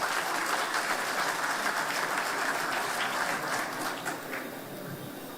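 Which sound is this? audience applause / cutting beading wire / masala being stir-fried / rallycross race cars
audience applause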